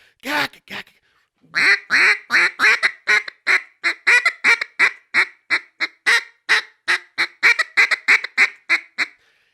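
A handheld duck call imitates a hen mallard's quacks, a long rapid sequence of loud, close, evenly paced nasal quacks after a couple of opening notes.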